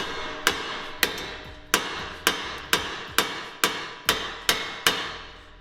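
A hammer bangs about ten times in a steady, evenly spaced rhythm, each strike loud, sharp and close, with a brief ringing decay after every blow and no talking.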